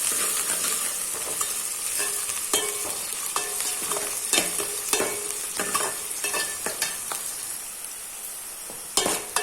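Sliced onion and curry leaves sautéing in oil in a pan, a steady crackling sizzle, with a spoon scraping and clinking against the metal again and again, close up and with no voices.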